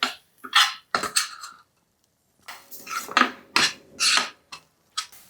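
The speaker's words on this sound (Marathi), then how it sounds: "किमान 4 ते 5 मिनिट तरी हे टोमॅटो चांगलं या तेलावर परतून घ्यायचं" A utensil scrapes and stirs tomato puree in oil in a pan for paneer butter masala, with bursts of metallic clatter split by a short pause, close and fairly loud, with no speech.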